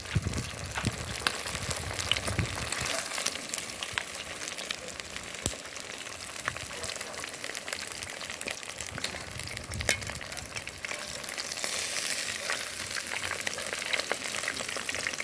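Fish frying in hot oil in a pot gives a continuous dense crackling sizzle with scattered sharper pops, steady and close for the whole stretch, no voices.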